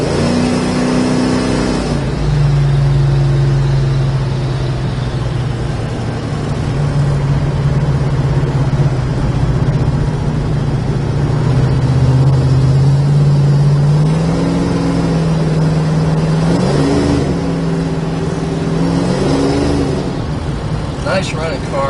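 A 1972 Plymouth Duster with a built 340 V8 running close by, its deep engine tone holding steady then rising and falling with revs, with people talking over it.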